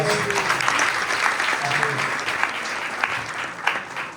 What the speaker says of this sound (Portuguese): Uma salva de palmas para o nosso.